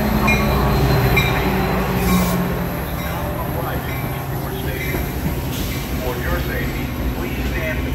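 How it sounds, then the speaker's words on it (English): A westbound Metra commuter train arrives at the Hinsdale, Illinois station, a loud, continuous rumble of wheels and rail with faint squeals, while a public-address announcement plays over it. "The next outbound Metro train from Chicago is now arriving in your station."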